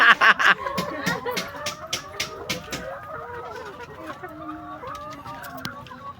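Chickens cluck steadily inside a layer chicken farm house, a dense chorus of many birds near and far, with a few louder sharp calls at the start.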